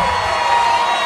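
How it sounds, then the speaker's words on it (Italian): An outdoor rock-show audience in Fermignano cheers for guitarist Luca Verde, a brief, dense burst of crowd shouting and cheering that fills the whole moment without a break. "Signore, un applauso a Luca Verde!"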